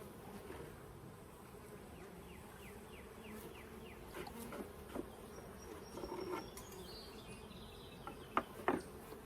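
Honey bees buzzing around an open beehive during an inspection, a soft steady drone with individual bees passing close, plus a few light clicks and taps of handling near the end.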